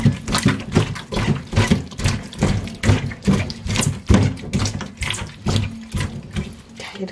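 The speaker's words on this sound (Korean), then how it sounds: "이렇게 해서 이제 헹구시면 되겠습니다" Tap water runs and splashes while seafood for a Korean seafood stew is rinsed by hand, with uneven bursts and gushes as the stream hits the food and sink, close and alone.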